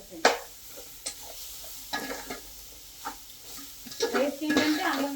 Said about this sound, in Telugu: లేకపోతే బియ్యం మొత్తం కలిపేసేయండి